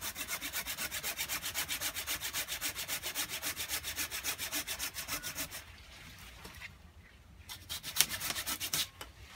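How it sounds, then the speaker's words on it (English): Hand pruning saw cutting through a fig tree branch just above a node, a steady rapid back-and-forth rasping stroke close up, slowing and breaking off near the end as the cut finishes. "we're just gonna go about 1/4 inch above that node, and we're gonna cut like so"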